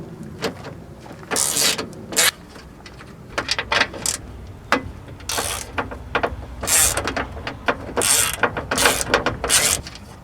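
Close, loud bursts of ratchet clicking from a 10 millimeter socket as bolts come out of a Ford Escape window regulator, in uneven spurts separated by short pauses.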